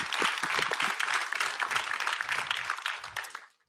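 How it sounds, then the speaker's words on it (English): Audience applauding at a live presentation, dense steady clapping at moderate distance that fades out near the end. "Let's give him some applause and get him pumped up to come up here."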